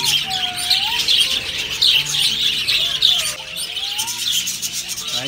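Birds in Patel Park, Shivpuri, chirp and whistle continuously from close by, with rising whistled calls over a dense, bright chatter of smaller birds.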